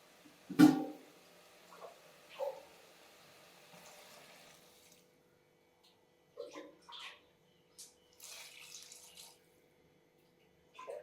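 Short bursts of water splash and pour into a pot of cooking mutton salna, separated by quiet gaps, with a louder splash at the start.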